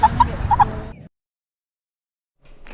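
Pet chickens cluck and call in a short burst of near bird sounds lasting about a second, followed by silence and then a faint return of noise at the end.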